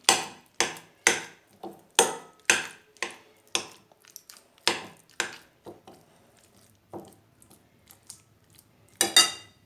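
A spoon clinks and scrapes in a bowl of Girit ezmesi, a Cretan dip, as it is stirred in repeated sharp, close strokes that slow and fade toward the end before a final burst of clatter.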